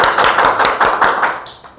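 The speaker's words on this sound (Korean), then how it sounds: "그냥 박수 보내주세요." An audience at an indoor presentation session gives brief applause, a quick run of evenly spaced claps heard up close that fades out within two seconds.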